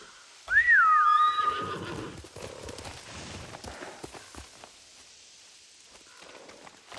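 In the Ghost of Tsushima video game, a horse gives a loud, rising and falling whinny at close range, followed by soft hoof steps and quieter movement sounds.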